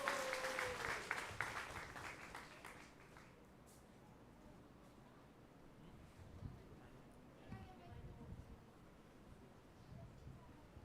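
An audience applauds at a temple anniversary celebration, a burst of clapping that is loudest at first and fades within a few seconds, followed by a quieter room with faint voices.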